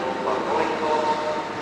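Steady, loud rumble of a passenger train running, heard from inside with a continuous wash of rail and carriage noise and a faint squeal, with no clear speech.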